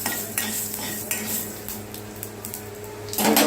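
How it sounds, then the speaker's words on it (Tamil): A spoon stirring a tempering of asafoetida in a cooking pan, with scraping clinks of metal on metal at an irregular pace, close and moderately loud, ending in a louder rattle. "இது நான் ஒரு தடவை இதை ஸ்டர் பண்ணிக்கிறேன்"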